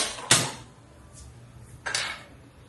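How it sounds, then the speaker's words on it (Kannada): A kadai wok is set down on a gas stove in a home kitchen, giving two distinct metallic clanks about a second and a half apart against quiet room tone. "ಹಾಗೆ ಕಡಾಯಿಯನ್ನು ಇಟ್ಕೊಳ್ತಾ ಇದ್ದೀನಿ"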